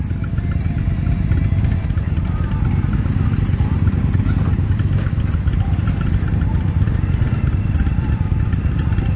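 Indian FTR 1200 motorcycle on a test ride, a steady loud engine and road rumble running throughout without a break.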